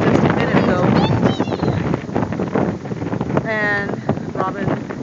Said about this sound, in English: The wind is really blowing hard.